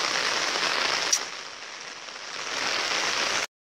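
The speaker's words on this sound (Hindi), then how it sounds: "हमारी असम में इतना ऐसा बारिश आ रहा है पता।" Rain pours in Assam during the rainy season, a dense, steady hiss of drops on surfaces with one sharper tap partway through, then an abrupt cutoff.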